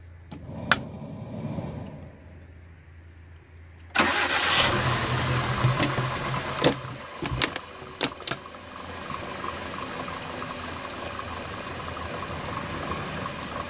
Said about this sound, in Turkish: Evet, şu anda bu motora çalıştıracağım.